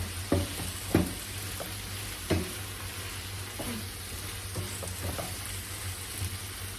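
Meat and onions browning with garlic in a pan, a steady soft sizzle with intermittent scraping and stirring knocks spaced across the clip, close and moderately quiet.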